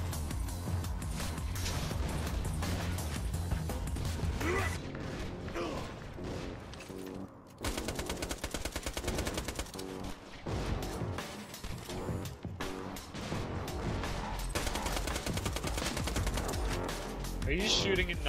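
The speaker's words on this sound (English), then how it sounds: "Are you shooting at nothing?" Dense, sustained gunfire in the Borderlands 2 video game, rapid automatic bursts and crashes running almost continuously at high level, with brief gaps, mixed with game sounds.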